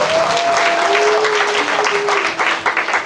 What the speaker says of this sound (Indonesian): Kasih tepuk tangan yang meriah buat Yesus.